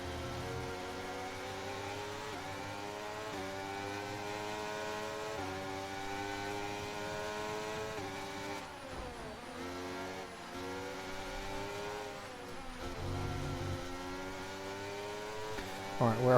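Formula 1 race car engine in the F1 2023 game pushed hard on a lap with DRS open, a steady high harmonic whine that rises and falls through gear changes, continuous and loud for the whole stretch.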